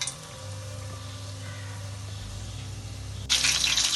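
Battered fish bajji is dropped into hot oil in a home kitchen. A low steady hum gives way to a sudden loud, bright sizzle near the end.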